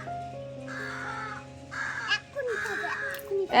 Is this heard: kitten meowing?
no